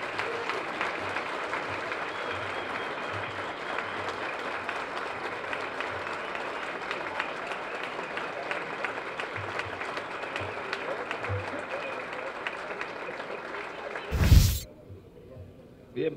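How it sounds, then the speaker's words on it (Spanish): A large audience at a National Youth Day event claps loudly to welcome a speaker, a long, dense and steady round of applause that ends abruptly with a thump, with faint crowd voices underneath. "vamos a recibir con un fuerte aplauso a nuestro tercer presidente de la República, Temo Montaz."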